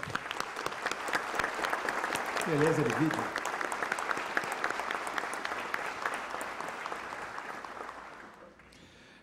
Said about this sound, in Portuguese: Uma salva de palmas à nossa Força Aérea